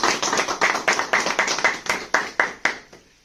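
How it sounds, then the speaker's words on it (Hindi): A small group claps loudly and close by in a quick, even rhythm of about a dozen sharp strokes, slowing and thinning out near the end before stopping. "एमडी सर के लिए जोरदार ताली होना चाहिए"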